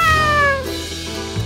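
A single drawn-out cat meow, loud and close, sliding downward before trailing off.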